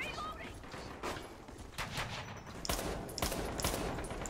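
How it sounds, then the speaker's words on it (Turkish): Gunfire from the online shooter Metro Conflict rattles in quick bursts and single shots, fairly faint and spread across a few seconds, with faint game effects between them. "Fakat silah sesleri çok güzel."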